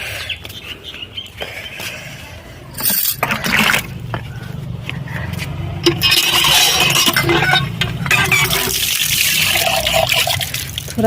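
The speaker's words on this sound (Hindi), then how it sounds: "थोड़ा पैर धो लेते हैं।" Water running and splashing while feet are washed outdoors on a sunny day at home, a loud close gush and trickle that grows steadier and stronger over the second half, with faint clinks and no talk.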